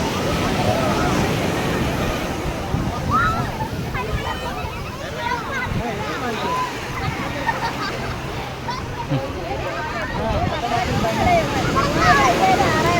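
Waves wash and splash continuously on Chavakkad beach in Thrissur while wind blows and people chatter around.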